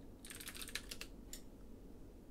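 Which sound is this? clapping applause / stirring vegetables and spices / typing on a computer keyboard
typing on a computer keyboard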